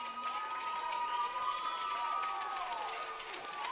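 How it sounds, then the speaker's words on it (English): Crowd noise from fans at a hockey semi-final between Calgary and South East, a steady distant roar with cheering that holds evenly throughout. "The fans here applaud both teams for a wonderfully played game"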